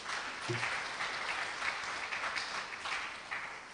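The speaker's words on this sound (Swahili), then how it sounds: "Makofi mengi tena." A crowd claps steadily and densely at an outdoor South Africa–Tanzania cultural festival event, a continuous wash of applause with no voices over it.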